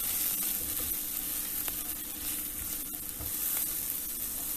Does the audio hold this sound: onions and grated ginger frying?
yes